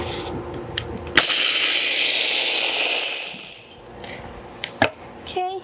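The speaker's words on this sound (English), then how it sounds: "Blend that all together. I use my stick blender." A handheld stick blender whirs for several seconds through almonds and Parmesan cheese in a container, with clattering kitchen knocks and clinks before and after the sustained buzzing run.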